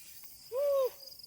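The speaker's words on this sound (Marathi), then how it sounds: "आहे का पूर्णपणे पक्ष्यांचा आवाज." A single clear hooting bird call rises out of quiet Sahyadri hill countryside, lasting under half a second and sounding fairly close against a still, empty background.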